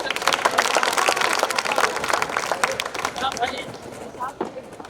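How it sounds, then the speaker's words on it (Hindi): Audience clapping at an international mushaira, loud and dense at first, then thinning into scattered claps, with voices talking over it. "एक बार तालियां बजा के मुझे इजाजत दें।"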